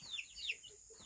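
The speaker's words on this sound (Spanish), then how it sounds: "por aquí están las gallinas con los pollitos" Chicks peep near hens and a rooster on a farm: a few quick, high, faint chirps in close succession over a quiet background.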